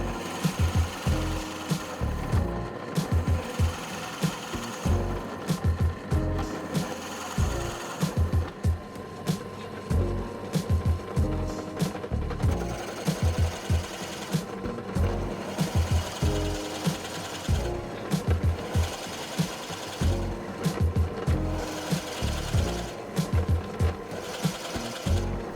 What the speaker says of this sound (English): I used a 40mm Forstner bit to drill out 2 holes evenly spaced apart where the tea lights were going to go